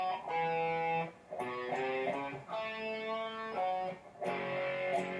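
A slow, distorted electric guitar walk-down riff rings out alone, with sustained notes stepping through several phrases separated by short gaps.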